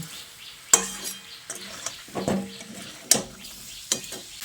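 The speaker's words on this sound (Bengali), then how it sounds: "আলুটা দিয়ে চিকেনের সঙ্গে আবারও ভালো করে নেড়ে চেড়ে মিশিয়ে নিচ্ছি" Chicken curry with potatoes stirred in a pan: a soft background sizzle under repeated scraping and clinking strokes of a spoon against metal, irregularly spaced, with several sharp knocks.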